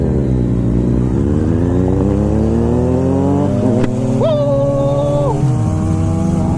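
Motorcycle engines at a bike meet, a loud continuous drone with rising and falling revs and a sharp high-pitched rev held briefly near the end, close by with no talk.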